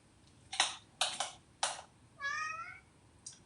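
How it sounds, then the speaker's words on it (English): Hungry cat meowing in a home kitchen during cooking: a few short close meows followed by one longer drawn-out meow, with faint background noise and no talking. "And I have my cat who apparently is hungry."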